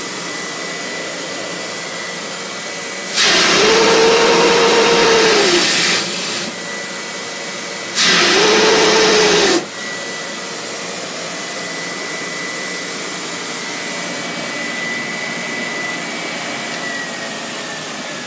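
A 1920 Spencer Turbine vacuum cleaner running with a steady loud whirring drone, rising twice into a harsher rushing roar for a few seconds each time before settling back to the even hum.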